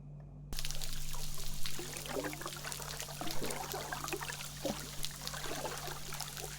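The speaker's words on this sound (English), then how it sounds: "More whooshing water." Water whooshes and trickles underwater, picked up by a hydrophone hung from a buoy, with faint irregular swishes and pops over a low steady hum.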